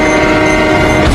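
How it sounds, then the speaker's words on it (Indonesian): A train in a film scene barrels forward with a loud, sustained rumble and a horn-like tonal blare held throughout, close and dominant, no voices. "dirinya tertabrak kereta"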